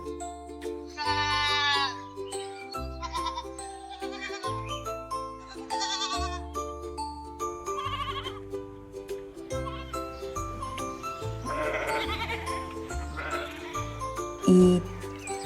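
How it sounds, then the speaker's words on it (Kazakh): Goat bleating in repeated short, quavering cries spaced across the stretch, close and clear, over a low sustained drone and soft chiming tones. "ешкі"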